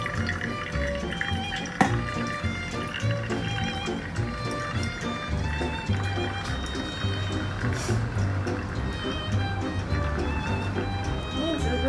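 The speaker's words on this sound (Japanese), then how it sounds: "容量多いので結構大胆に注いでいってしまって構いません。 230になるまで注ぎます。" Hot water is poured steadily over coffee grounds for a four-serving brew, producing a continuous soft splashing trickle throughout while a person talks over it.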